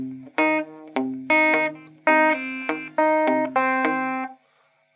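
A rockabilly electric guitar lick, a quick run of plucked notes with pull-offs in uneven bursts, slightly distorted and close, ringing out at the end with no talk.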